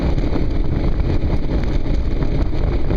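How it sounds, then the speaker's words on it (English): Steady, loud wind rushing across the microphone, a constant low rumble with gusty buffeting throughout and no voices. "So, very windy."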